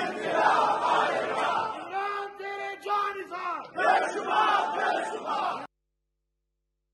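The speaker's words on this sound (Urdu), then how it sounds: "الجہاد الجہاد کے نعرے لگے ہیں" A large crowd at a political rally chants the slogan Al-Jihad in loud, rhythmic massed shouts, with a long drawn-out cry in the middle, then cuts off into silence.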